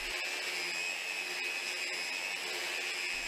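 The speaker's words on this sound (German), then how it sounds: "Um alte, härtere Grundierungen loszuwerden, kann man aber gut mit der Maschine arbeiten." Sanding machine stripping old antifouling paint and primer from a boat hull, a constant loud whirring grind that runs throughout, close by, with no speech.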